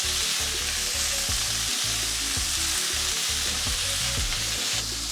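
Sweet peppers cooking in a pan for Kenyan smocha, a loud, close, continuous sizzle with repeated rhythmic stirring scrapes against the pan, no voices.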